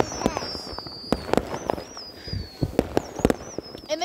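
Neighborhood New Year fireworks go off as a string of sharp cracks and bangs of varying loudness, some near and some distant, over a steady outdoor hiss, with faint whistling streaks rising between the pops.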